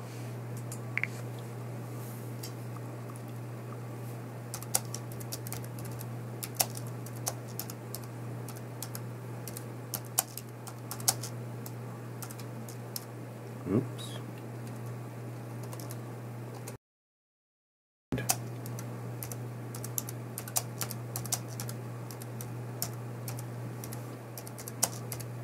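Steady typing on a Bluetooth keyboard linked to an Android phone with a broken screen, a run of quick light key clicks close by over a low constant hum, with one short silent gap partway through.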